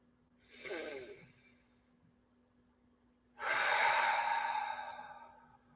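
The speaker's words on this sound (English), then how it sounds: "Pause for a moment and take a deep breath." Two deep, audible breaths sound close to the mic with no talking: a shorter inhale first, then after a pause a longer, fuller breath that slowly fades.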